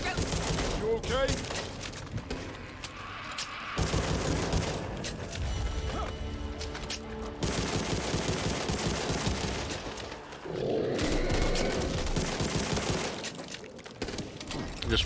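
Dense gunfire rattles in the Back 4 Blood video game, with bursts of automatic shots, booms and crashes coming in waves, and voices talking now and then over the fighting.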